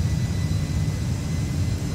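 MD-11 jet engines spooling at takeoff thrust in the X-Plane 12 flight simulator, a steady loud broadband roar with a deep rumble, continuous and even with no talking.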